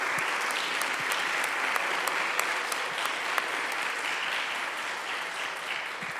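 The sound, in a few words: audience applause for volunteers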